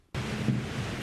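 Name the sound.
wind blowing on the National Mall, Washington, D.C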